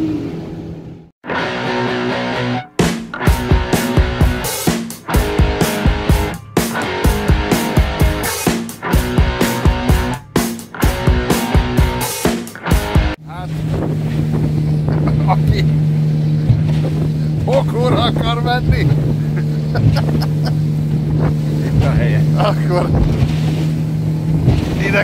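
A boat engine out at sea near Cape Dezhnev in the Bering region, starting with choppy clattering bursts, then a steady loud droning hum with wind buffeting the microphone.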